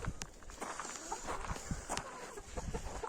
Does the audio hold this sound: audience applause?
no